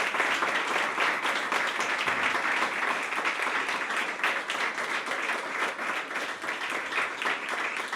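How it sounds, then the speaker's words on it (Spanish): A church congregation bursts into sustained, dense applause during a Christian sermon, with many hands clapping steadily for several seconds in a reverberant room. "Damos un aplauso al Señor."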